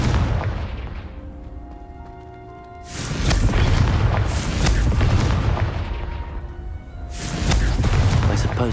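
Repeated booming Confringo fire-spell blasts in Hogwarts Legacy, loud bursts at about three and seven seconds, each rolling on with rumbling debris, under a faint musical bed.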